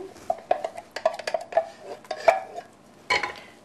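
A spoon clinks and scrapes repeatedly against metal while two small cans of pork and beans are emptied into a pot, an irregular run of close, light knocks with short gaps.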